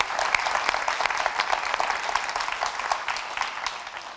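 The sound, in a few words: audience applause for the summit speakers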